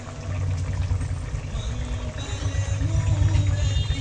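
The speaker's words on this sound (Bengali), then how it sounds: "এখন আমি পরিমাণ মতো জল দিয়ে দিচ্ছি।" Water poured from a vessel into a simmering spiced rohu fish curry in a home kitchen, a steady close splashing pour that runs evenly throughout with no voices.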